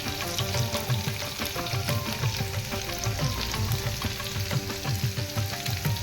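Green chillies and onion sauté in a pan with a steady, dense sizzle and crackle that holds evenly throughout, close by with no talking.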